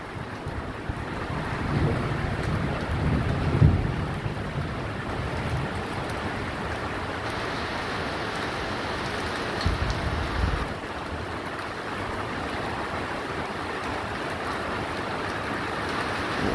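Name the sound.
heavy rain falling sideways in thunderstorm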